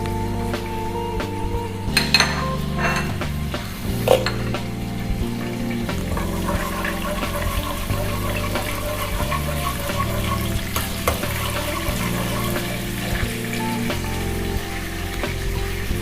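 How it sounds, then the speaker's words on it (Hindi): Whole garam masala spices, black peppercorns, green cardamom, cloves and cinnamon pieces, sizzle steadily in hot oil in a pan with occasional stirring clinks, a continuous close frying hiss throughout. "मैं इसको तेल में फ्राई कर लूँगी।"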